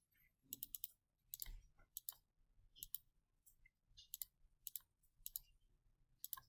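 Computer keyboard typing, close and quiet, with irregular bursts of crisp key clicks separated by brief pauses.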